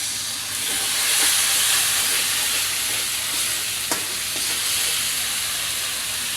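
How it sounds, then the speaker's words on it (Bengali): Masala for a Sundarbans crab curry stir-fried in oil in a pan, with a steady close sizzle and hiss and a few scraping stirs, and no talking. "এবার সব কিছু ভালো করে কষিয়ে নিব।"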